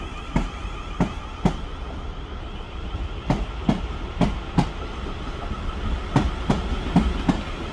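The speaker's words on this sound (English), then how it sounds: "There goes the long class" A South West Trains class 450 electric unit rolls past at Guildford station, close and loud, its wheels beating out a regular clickety-clack over rail joints above a continuous rumble, with no talk.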